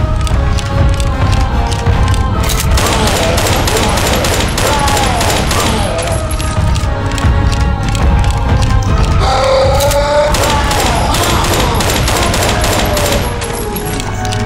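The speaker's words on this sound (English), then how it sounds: "Everyone shoot the tank." Sustained gunfire aimed at the Tank in Left 4 Dead 2, rapid overlapping shots from several weapons hammering continuously and loudly for the whole stretch, with occasional voices mixed underneath.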